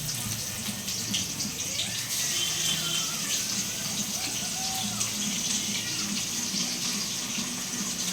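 Onions going into hot oil tempered with cloves, cinnamon and cardamom for a Bengali kosha mangsho, giving a steady, dense, close sizzle that hisses evenly throughout with no talking.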